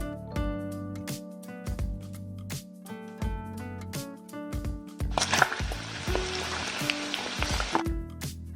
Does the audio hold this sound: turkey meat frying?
yes